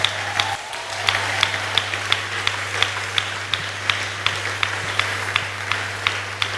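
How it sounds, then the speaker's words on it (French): A church congregation claps for themselves at a worship service, a steady run of regular, sharp claps sounding close and fairly loud with a faint hum beneath. "Est-ce que tu peux encore acclamer pour toi-même?"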